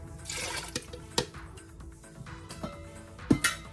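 Tap water runs and splashes in bursts as goat meat is rinsed for Nigerian ogbono soup, with a few sharp clunks and knocks of pot or bowl in a kitchen, no talk.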